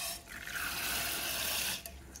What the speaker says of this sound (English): Now I'm going to soak the lentils into the water.